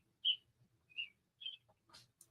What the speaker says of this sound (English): I like the sound of the birds.